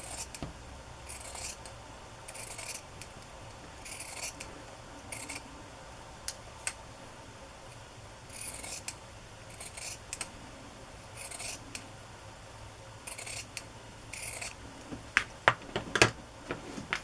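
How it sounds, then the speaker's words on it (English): Scissors snip through paper in repeated short bursts while trimming strips for a patchwork-style journal made from a Little Golden Book, crisp cuts close up with quiet pauses between, a few sharper clicks near the end. "Guess I'll cut it a little bit narrower."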